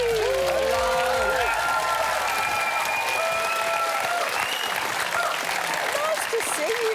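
A studio audience on a TV wellness show applauds comedian Dave Hughes, a dense, even wash of clapping with some cheers that holds steady throughout.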